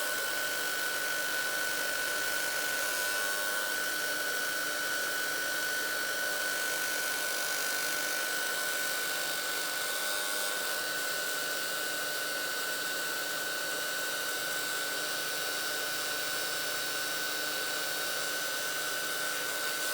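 A heat gun melts heat embossing powder for a paper craft project, giving a loud, steady blowing roar with a constant whine that runs unbroken for the whole stretch, with no talking.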